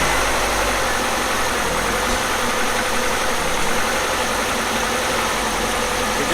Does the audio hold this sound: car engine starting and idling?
yes